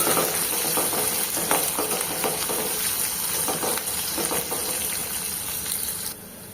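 Cumin seeds and pepper frying in a pan for fish sambar, a dense, continuous sizzle with faint crackles and light stirring nearby, easing off toward the end, no voices.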